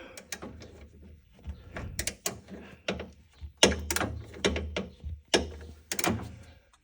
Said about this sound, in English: I use a wobble extension so the socket can move a little bit, and I'm going to turn it off.